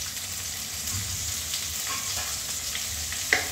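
Chopped tomato frying with browned onion while being stirred, a steady close sizzle with soft scraping and a sharp clink near the end, no voices.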